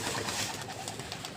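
At an outdoor pigeon-flying tournament, pigeons coo close by in a short, dense stretch of throaty calls over busy background noise, with no talk.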